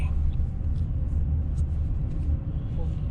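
A Toyota Alphard engine-braking down a long, steep mountain descent in its lowest gear gives a steady, loud low rumble that fills the cabin without a break.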